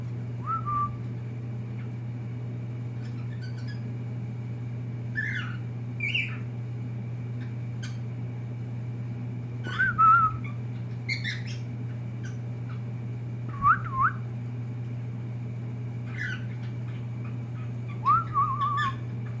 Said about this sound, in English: So she's been whistling like this for a couple days, and I whistle back and then she whistles again.